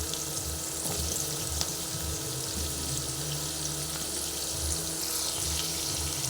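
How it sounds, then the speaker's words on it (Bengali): Potatoes and pumpkin frying in a pan for a vegetarian red amaranth stem and poppy seed curry, giving a steady close sizzle with wet crackle and faint utensil clatter throughout, no voices. "এই সময় আমি আলু আর কুমড়োটা ভেজে নিচ্ছি"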